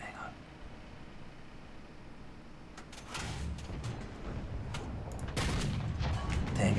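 Tank cannon fire in War Thunder during a combined plane and tank battle: heavy booming shots and rumbling impacts rise out of a steady engine drone, getting louder toward the end as a voice talks over them.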